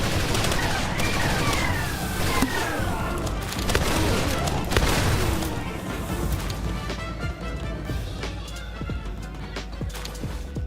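Gunfire in the Palworld video game, heavy bursts of rapid shots and booms crowding the first half, then scattered sharper single shots over a rumbling background.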